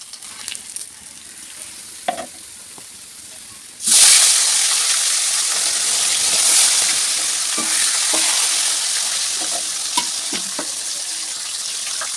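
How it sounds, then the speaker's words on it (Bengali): Spice-coated fish dropped into hot oil, a loud sizzle bursting in suddenly after a quiet start with a few faint knocks, then a sustained close frying hiss with occasional clinks of stirring. "এখন আমি মাছগুলো ভালো করে লাল লাল করে ভেজে নেব"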